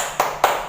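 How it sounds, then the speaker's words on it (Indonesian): Two sharp claps from a group of children doing a rhythmic spirit clap in a classroom, evenly spaced and close, with a brief pause between them. "Tepuk semangat."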